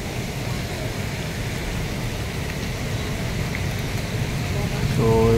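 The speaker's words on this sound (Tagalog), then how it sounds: "Ayan, maririnig natin yung agos ng tubig." Steady rushing water flows continuously, like a swollen stream or runoff, with a brief burst of sound near the end.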